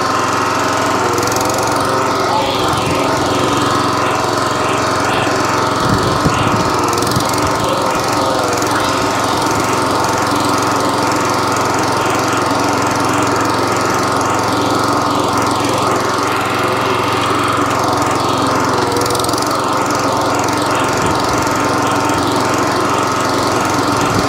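An Atco cylinder lawn mower engine runs steadily and loudly throughout, a constant rattling drone with no pauses and no voices.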